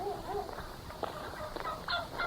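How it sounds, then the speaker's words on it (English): Turkeys gobbling in rapid, bubbling bursts, with a few fowl clucks mixed in, moderately close in an outdoor setting. "We've got turkeys here"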